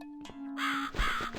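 A crow caws in The Cat Lady, a video game, two drawn-out harsh calls over a steady low game hum, fairly clear and close, with a short knock between them and no talking.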